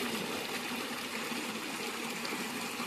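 River water flowing steadily, a broad continuous rushing wash that stays even throughout with no voices over it.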